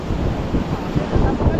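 Sea waves at a seaside fishing spot, a continuous rough wash of surf mixed with wind buffeting the microphone, close and fairly loud.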